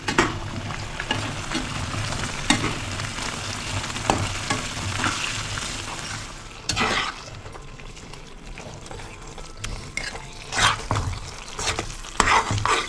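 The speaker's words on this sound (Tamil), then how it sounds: "இது ரெடி ஆகிற வரைக்கும் நல்லா போட்டு கிண்டிக்கிட்டு இருக்கணும்" Bread frying in ghee with cardamom in a pan, stirred with steady scraping and clinking over a continuous sizzle, with a few louder knocks of the spoon against the pan.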